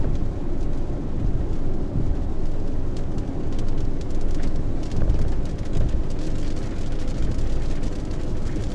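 Steady, loud rushing wash of rain and road noise from inside a moving vehicle near Winona, Minnesota, continuous and dense throughout with no voices.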